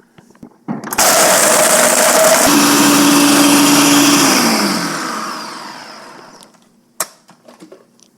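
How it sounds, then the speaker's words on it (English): Blender running on high, mixing a protein ice cream base of frozen ingredients, loud and steady for several seconds as its motor pitch shifts, then winding down and stopping, followed by a sharp click and a few light knocks. "blend it on high for 1 minute"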